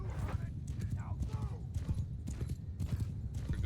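A horse gallops during a cavalry charge in Mount & Blade Bannerlord, its fast, steady hoofbeats pounding loudly beneath continuous talking and battle noise.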